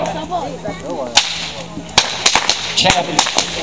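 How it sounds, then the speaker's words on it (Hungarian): Karikás herding whips crack sharply several times during a baranta demonstration. The cracks come in an irregular run of loud snaps close by, with people talking and a busy outdoor background behind them. "Itt ami nagyon szép az, hogy szólnak az ostorok."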